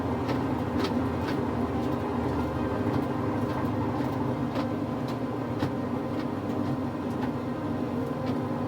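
A repaired Samsung dryer runs with its drum spinning, giving off a continuous dense rumble and whir with faint recurring ticks and clicks, steady throughout with no talking.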